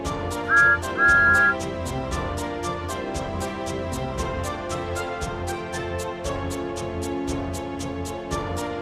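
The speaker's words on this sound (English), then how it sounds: "I was surprised to see the little blue tank engine up ahead, and he whistles to me." The little blue steam tank engine Thomas gives two short, clear whistle toots near the start, then steady rhythmic chuffing and music carry on underneath.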